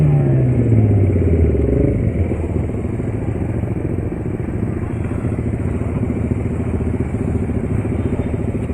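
A motorcycle engine runs slowly in heavy, stuck traffic during crowded street celebrations, a loud, close, steady low chugging with a brief rising rev at the start and clattering mechanical noise.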